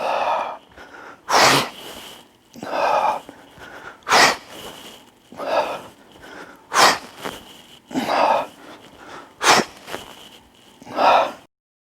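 Forceful, breathy exhales repeat rhythmically during sit-up style ab exercises, each sharp puff followed by a quieter inhale, close and loud, about eight cycles with no speech.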